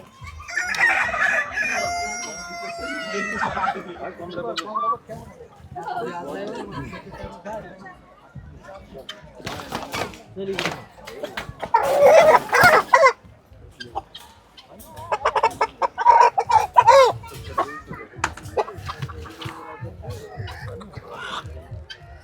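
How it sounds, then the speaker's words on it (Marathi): Colombian Brahma chickens cluck and chatter close by while a rooster crows clearly near the start, with more bursts of loud cackling and clucking through the middle. "जगातली सर्वात मोठी कोंबडी कोलंबियन ब्रह्मा"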